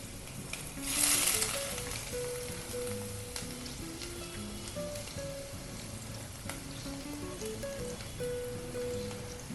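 Grated watermelon rind, squeezed of its juice, sizzles steadily in hot ghee tempering for fasting food, a continuous crackling fry with a sharper burst near the start and faint background music underneath.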